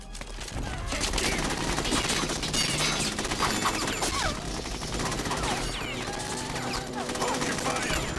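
Rapid bursts of gunfire in Metal Gear Solid 2, sharp dense shots and crashing impacts rattling continuously at close range, with voices shouting amid the shooting.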